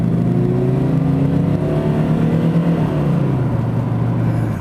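A Jaguar XJS V12 coupe engine roars loudly and steadily, its pitch climbing as it accelerates hard off the line, close up with no talking.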